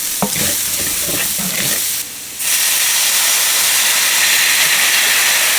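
Garlic and ginger sizzle loudly in a hot pan, a dense steady hiss with a brief dip as the pan is stirred, then a louder, fuller frying roar.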